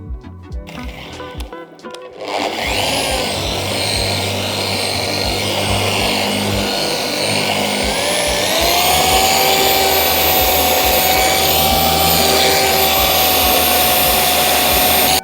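A machine polisher fitted with a hybrid pad spins up against the paint of an Alfa Romeo GT1300 Junior, a loud steady whir after a brief quiet start, its pitch rising and holding near the microphone.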